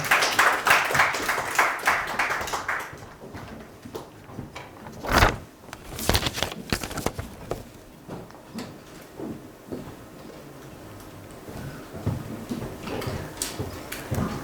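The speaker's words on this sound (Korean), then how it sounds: "박수로 환영해 주시면 감사하겠습니다" Audience applause welcoming a student presenter at a university capstone design presentation event: dense clapping from a crowd for about three seconds, then scattered knocks and handling noises in a quiet hall.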